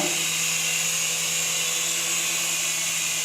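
A small beginner RC helicopter hovering at full throttle gives a steady, high-pitched electric motor whine with rotor buzz, unbroken and fairly close throughout.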